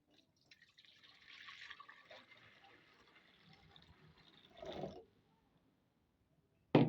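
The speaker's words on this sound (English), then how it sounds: "we're gonna take our bowl here, and then we're gonna add our hot water" Hot water pours into a bowl while chapati dough is being prepared, a soft trickling fill that runs for a few seconds, swells briefly near the end, then stops with a sharp knock.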